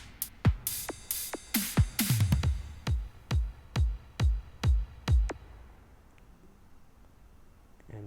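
GarageBand Mobile future bass arrangement built from a dubstep drummer track, an Apple Loops future bass loop and an atmospheric beat: a run of punchy kicks and bright hits thumping in a steady rhythm, then fading to a quiet tail.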